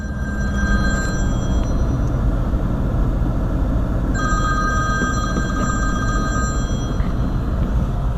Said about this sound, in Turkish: Telefonum da çok vakitsiz çaldı.